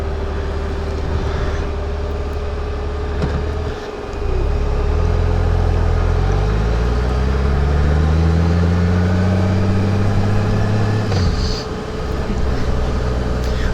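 A Honda Goldwing motorcycle drives along, its engine humming steadily and then rising in pitch as it accelerates, loud and close, with a steady tone running throughout and a brief dip in the middle.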